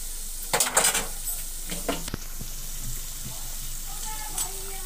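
Peri peri potato bites fry in oil in a pan, a close steady sizzle with clattering bursts of stirring or pan contact early on and a sharp knock midway, and faint bubbling throughout.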